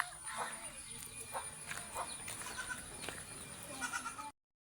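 Two young crossbred goat kids bleat over and over, high and wavering, close by amid a noisy background, until the sound cuts off abruptly.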